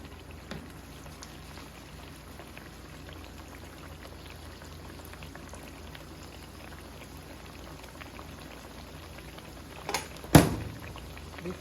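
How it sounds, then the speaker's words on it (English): Hot water cornbread patties frying in hot grease, a faint steady sizzle and bubbling throughout, with a brief louder splash near the end as another piece goes in. "put that hot water cornbread into this grease"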